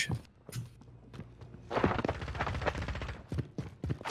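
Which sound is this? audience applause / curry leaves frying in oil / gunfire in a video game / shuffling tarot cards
gunfire in a video game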